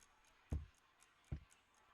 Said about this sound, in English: I hear a clock on my wall.